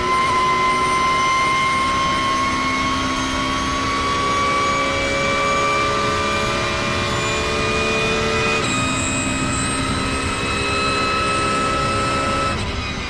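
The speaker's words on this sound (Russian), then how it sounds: "там взлет" A jet aircraft taking off, a loud continuous engine roar with a rising whine that holds steady throughout, close and alone without talk.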